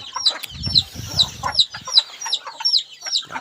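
Chickens cluck close by at evening feeding, with repeated sharp, high calls in a steady rhythm and a short stretch of low rustling or pecking near the start.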